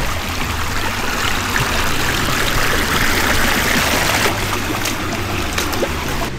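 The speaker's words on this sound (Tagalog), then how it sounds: "Meron palang ilog talaga dito." River water flows steadily close by on the approach to the Mt Pinatubo crater, a continuous broadband rush and trickle that stays loud and even throughout with no talking.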